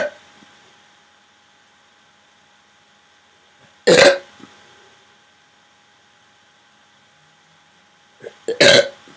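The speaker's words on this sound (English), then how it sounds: "I'm pretty sure I'm gonna have a big, massive burp" Two loud, close burps from someone after drinking Rocket Fizz soda, one near the middle and a longer one at the end, separated by quiet with faint background hum.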